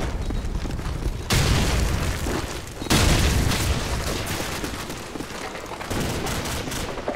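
A Call of Duty 4 Modern Warfare team deathmatch with a frag grenade going off and gunfire: two heavy booming blasts several seconds apart over continuous loud rumbling battle noise and scattered shots.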